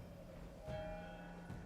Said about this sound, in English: And she goes by and then these bells ring.